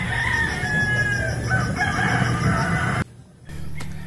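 A rooster crows nearby, loud and drawn out with a hoarse wavering tone, amid farmyard clucking and background noise, and the sound cuts off abruptly near the end.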